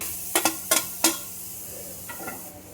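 Boiled onions go into a pan of sizzling masala for a Kerala-style chicken curry, giving a few sharp clattering stirs and scrapes followed by a softer, steady sizzle, close and fairly quiet with no talk.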